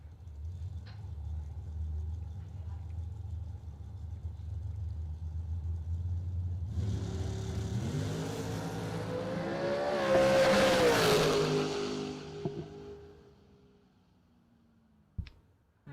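A drag racing car launches and tears down the left lane of a racetrack, its engine swelling from a low rumble to a loud, rising roar that peaks and then fades into the distance, leaving near silence.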